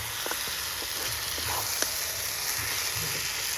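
Meat sizzles steadily while being sautéed in a pan in a home kitchen, a continuous close frying hiss broken by a few soft clicks of stirring.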